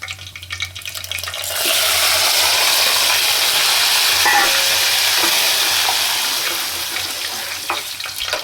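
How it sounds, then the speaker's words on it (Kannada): Soaked sago pearls hit hot oil in a pan, setting off a loud, steady sizzle that swells after the first two seconds and stays broad and hissing, with light stirring under it and no talk. "ಇದಕ್ಕೆ ನೀವು ರಾತ್ರಿನೇ ನೆನೆ ಹಾಕಿರುವಂತಹ ಸಬ್ಬಕ್ಕಿ ಹಾಕೋಬೇಕು"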